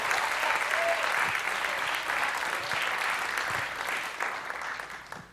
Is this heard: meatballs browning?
no